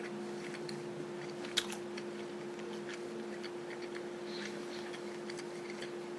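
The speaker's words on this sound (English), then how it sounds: "Take another bite." Someone bites into and chews a sandwich up close. The moist crunches and mouth clicks are quiet over a faint steady room hum, with one sharper bite standing out.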